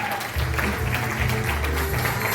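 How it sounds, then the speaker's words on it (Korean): An audience applauds a speaker at a company motivational event, with steady clapping that holds at an even level for about two seconds over a low background hum. "여러분 큰 박수 부탁드리겠습니다."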